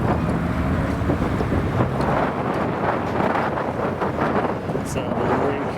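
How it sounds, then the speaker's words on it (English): Strong wind buffets the microphone outdoors at the Haynes Breakfast Meet car show in April 2024, a steady loud rushing roar for the whole stretch, with faint voices and vehicle sounds mixed underneath. "the wind is really picking up."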